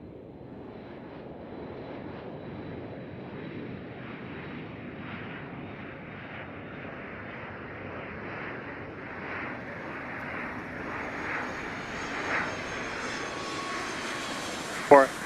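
A Delta jet airliner takes off from runway 8 right at Atlanta, its engine roar building steadily over fifteen seconds, with a radio voice talking over it.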